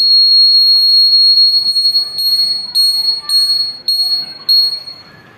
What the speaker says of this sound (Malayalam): ഈ ബസർ ലൈറ്റും പ്രവർത്തിക്കുകയും ചെയ്യുന്നു